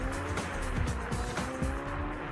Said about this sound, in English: Then the Class A cars leapt from the grid.